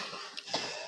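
A man gives a brief, dry cough or two during a Spanish-language sermon, quick and close against a quiet room.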